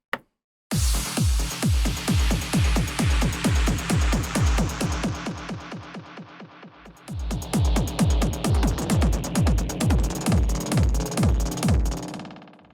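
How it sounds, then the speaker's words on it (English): A rotary DJ mixer's tape echo effect runs over a steady rhythmic beat, each loud hit trailing into repeating decaying echoes; the pattern thins briefly midway, then returns full and driving before cutting off, with no voices. "Tape echo."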